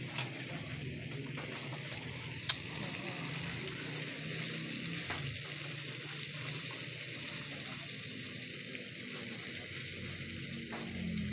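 Barbecue grilling over heat, Filipino-style ihaw, with a steady, dense sizzle that keeps a constant crackling hiss throughout and has a few sharper pops along the way.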